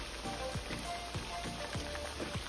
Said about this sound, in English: I'm gonna finish frying these